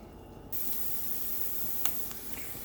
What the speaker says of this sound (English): to the oil, we are going to add our 2 tablespoons of onion, 2 tablespoons of green pepper, and we're going to let that cook